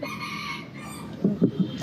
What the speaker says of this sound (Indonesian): sama kayak suara ayamnya, keren banget ya peliharaan kita gitu kan